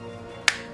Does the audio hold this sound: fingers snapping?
yes